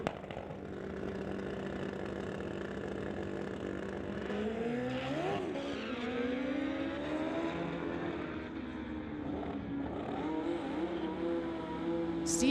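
Drag racing motorcycles, including a 2007 Kawasaki ZX14, launch and run down a street-legal strip. Their engines drone with sweeping, rising and falling pitch as the riders let off, heard at a distance at a sustained, moderate level.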